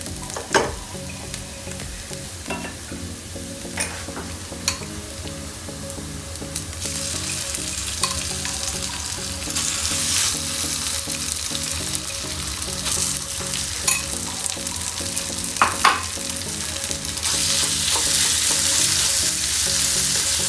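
Beef bolognese sizzles and fries steadily in a pan while a utensil stirs and scrapes through it in irregular strokes, close and continuous, with no talk.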